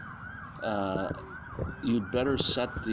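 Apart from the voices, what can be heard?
emergency vehicle sirens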